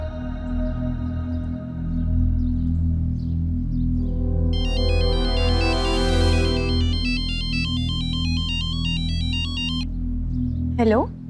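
A phone ringtone plays a bright repeating electronic melody over a steady hum, then cuts off abruptly near the end.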